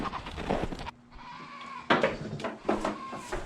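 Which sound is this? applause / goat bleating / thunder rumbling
goat bleating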